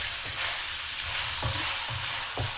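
Meat sizzles and fries steadily in a hot pan as it releases its own oil and turns golden brown, with a few soft stirring scrapes breaking through the continuous crackle; no voices.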